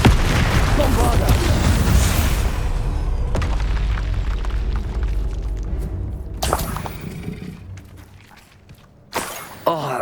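Bombarda blasting spell in Hogwarts Legacy, a deep booming explosion with crumbling debris that rolls off slowly, followed by two sharper later bursts, loud and close.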